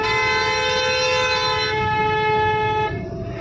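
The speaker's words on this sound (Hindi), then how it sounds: "हॉर्न दीजिए" A car horn sounds in a steady, sustained blast during a driving lesson in traffic, its stacked tones held for about three seconds over the engine and road noise before cutting off.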